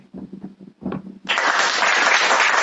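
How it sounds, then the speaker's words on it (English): Three podcast hosts clap for Fernando Alonso's third-place Formula 1 podium: after a second of brief talk, a dense burst of hand clapping starts and continues steadily, close and fairly loud. "He's waited his entire life to hear an applause from us three"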